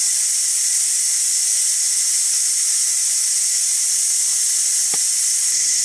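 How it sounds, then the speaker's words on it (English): Steady loud hiss of steam venting from a Ninja Foodi Deluxe pressure cooker, continuous and unbroken throughout, with a brief faint clink near the end. "now it's been releasing pressure for 2 minutes and 45 seconds"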